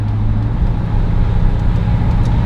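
Steady low road rumble and engine drone from inside a moving 1970 Plymouth Duster at about 40 miles an hour, continuous and fairly loud with no speech.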